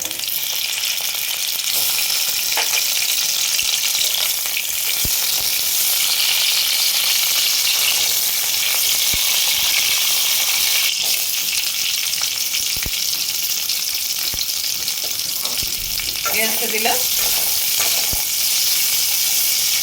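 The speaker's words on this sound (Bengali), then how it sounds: "সাদা তেলে ফ্রাই করে নেব ক্যাপসিকামটা ভেজে নেবো" Capsicum frying in white oil for a cauliflower do pyaza, a steady close sizzle running throughout with occasional soft clicks of stirring.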